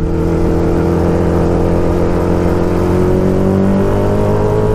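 A 650cc shifter kart engine roars close and loud while accelerating in second gear, its steady buzzing tone rising gradually in pitch with constant wind and drivetrain noise.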